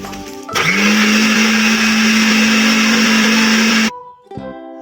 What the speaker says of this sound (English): after we put the gelatin mixture, we will continue blend the mango puree.